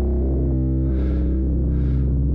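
Dry Eurorack modular synth drone through a heavily resonant wasp filter, a sustained buzzing tone with rich harmonics that swells twice in brightness as the filter sweeps, steady and close with no reverb.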